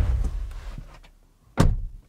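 An Audi Q4 e-tron car door swings shut with a single solid, close thunk, preceded by softer rustling and handling noise.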